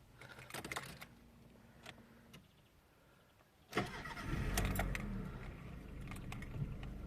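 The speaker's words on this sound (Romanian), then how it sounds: "Motorul rulează foarte, foarte frumos, foarte silențios." Volkswagen Golf IV engine starting: faint clicks and a quiet hum, then a sudden crank and catch as the engine fires, settling into a steady, smooth, quiet idle.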